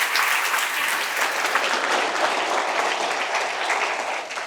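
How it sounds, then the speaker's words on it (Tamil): Audience applause at an award ceremony honouring a guest with a shawl, a dense, steady round of clapping from many hands throughout, loud and unbroken with no talk over it. "உங்களுடைய பலத்த கரகோஷம் அவருக்கு பரிசாக போகிறது."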